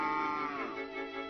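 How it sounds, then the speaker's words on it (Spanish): A single cow moos once, a low drawn-out call lasting about a second, heard up close. "Vaca."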